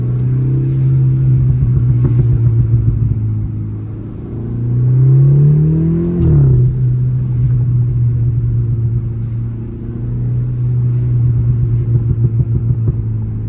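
A stage 1 tuned 2018 BMW 330i engine drones steadily while driving, with a rising rev surge around the middle and a brief drop as it shifts, then a continuous loud mid-low hum returns.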